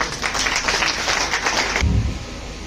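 An audience at a women's empowerment event in India breaks into applause: a dense, close burst of many hands clapping that fills the first couple of seconds, then cuts off abruptly, leaving a low murmur.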